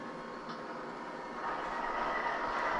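BNSF Proto Sound 2 model train engine on a Lionel layout starting up, a steady mechanical hum and rumble that steps up in level partway through and keeps running.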